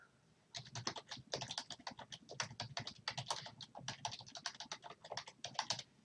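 Someone types a title on a computer keyboard in steady bursts of close, crisp key clicks that continue for about six seconds, with short pauses between runs of keystrokes and no talking.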